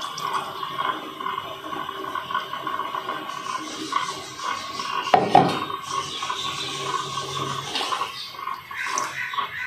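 Milk poured into a pot of nearly finished kahwa tea for tandoori chai, a steady wet pouring and liquid churn with faint clinks of the pot, continuous and close, with a brief louder splash midway.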